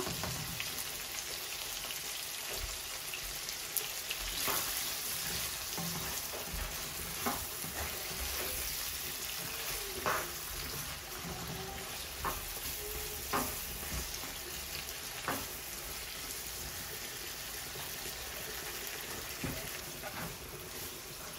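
Onion frying with salt in a pan gives a steady dense sizzle throughout, broken by scattered crackles and pops and the occasional stir, close and fairly quiet, with no voices.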